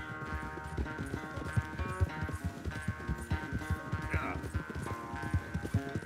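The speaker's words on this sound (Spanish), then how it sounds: "Su caballo corre más porque es más grande." Horse hooves gallop in Red Dead Redemption 2, with a quick, steady clip-clop rhythm that carries on over a layered game soundtrack and ambience.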